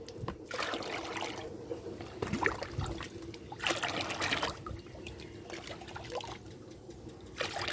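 Water mixed with soil tonic poured by the mugful onto potted brinjal plants in a rooftop garden, several separate splashing pours with quiet trickling gaps between them, close by.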